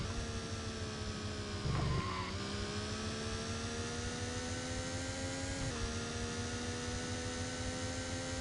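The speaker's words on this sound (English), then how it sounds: "As the rest of the gaggle of cars at the back stream through." GT1-class racing cars at Hockenheimring in the video game Sports Car GT drone past as a continuous engine tone, the pitch dipping twice as the pack streams through, with no voices.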